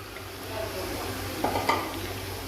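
Meat dropped into hot oil with ginger and garlic, a steady sizzle and frying hiss running under a couple of brief stirring clinks and scrapes.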